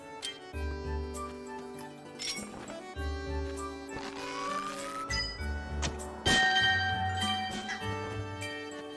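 A bell is struck in The Legend of Zelda: Skyward Sword HD, giving a bright ringing hit that sustains near the end amid layered game music and small clinking effects.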